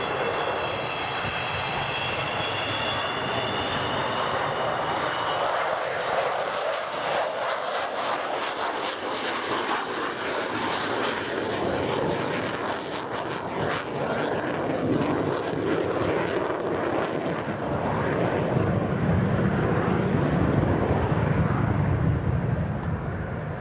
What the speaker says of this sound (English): supporting this magnificent aeroplane, doing a low, slow, wheels down flight up